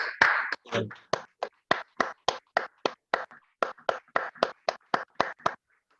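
A church congregation at a Spanish-language worship service claps together in a steady, even rhythm of sharp, evenly spaced claps that carries on for several seconds, with a voice audible at the start.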